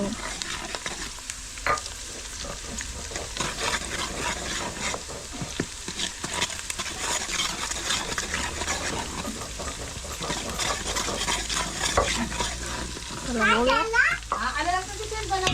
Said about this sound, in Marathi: कांदा परतून घेतो आपण पहिले.